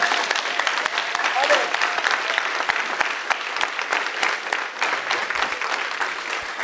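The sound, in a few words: congregation applauding in church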